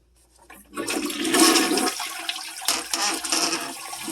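A toilet flushes with a 1,000 Flushes cleaner tablet in the tank: a loud, close rush of water surges after a short quiet start and keeps gurgling and draining steadily to the end.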